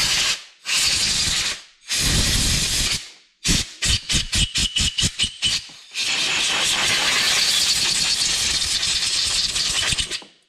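Compressed air blasts out of a nozzle onto a Yardmax snow blower carburetor: loud hissing bursts, first two long ones, then a rapid series of short pulses, then a sustained continuous blast lasting several seconds.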